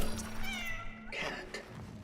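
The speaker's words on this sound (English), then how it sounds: "Cat." A cat in the video game Cronos: The New Dawn gives two clear, close meows, the second higher and more drawn out, over a low steady game hum.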